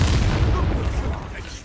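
Expulso spell blast in the video game Hogwarts Legacy: a loud, dense, rumbling explosion with a deep boom that fills the whole moment and slowly tails off.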